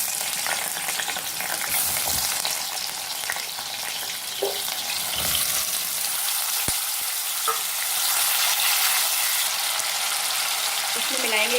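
Potato pieces fry in hot oil in a pan, making a loud, dense, steady sizzle throughout with a few faint clinks and utensil knocks.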